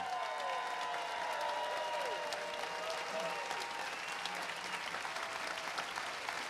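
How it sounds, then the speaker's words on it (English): Steady audience applause at a millionaire panel event, a dense wash of clapping held at even level throughout, with a few faint voices calling out beneath it. "let's give them all a big round of applause"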